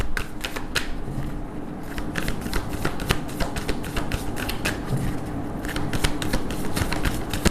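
A deck of tarot cards is shuffled and drawn close up, with repeated crisp riffling and snapping card sounds in quick bursts, and no talk over them.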